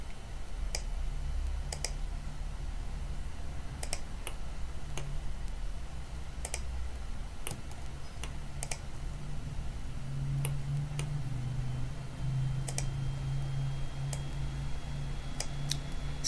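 Sharp, isolated computer mouse clicks sound near and quiet, scattered irregularly over a low hum while someone works in SolidWorks CAD software.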